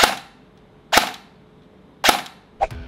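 An AK-style airsoft BB gun fires four single sharp cracks at uneven intervals. Each crack is loud and close with a brief tail, and there is no talking.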